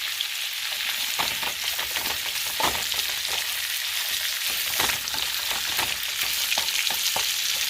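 Cabbage fries in bacon grease with a steady, dense sizzle, and a few brief stirring scrapes cut through it. No one speaks.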